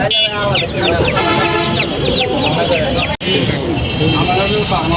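Chickens, including a Light Brahma rooster, cluck steadily amid a loud, busy crowd with overlapping chatter at the Kaptan Bazar poultry market.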